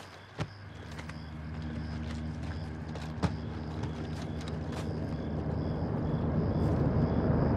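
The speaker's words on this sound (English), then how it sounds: "Got a heli incoming." An approaching helicopter in Call of Duty MW2 (2022), in the Las Almas level in Mexico, builds as a low, swelling rotor rumble that grows steadily louder, with scattered sharp clicks and thuds over it and no talking.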